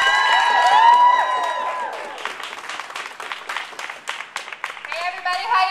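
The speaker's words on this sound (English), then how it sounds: "give her a round of applause" Crowd at a Pittsburgh protest over Title X reproductive-health funding applauds and cheers for a speaker, with scattered whoops and voices mixed into the clapping, which softens and then continues under ongoing chatter.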